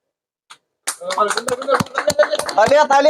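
Scattered hand claps ring out at the opening of an e-rickshaw dealership, Balaji Enterprise in Baihata Chariali, a few sharp close slaps mixed with people talking and chuckling.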